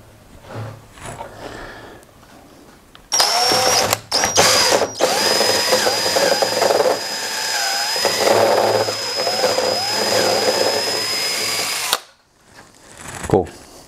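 Power drill boring a hole through a cap for a DIY portable shower build, a loud high whining spin held for about nine seconds with a few short starts before it, then stopping abruptly.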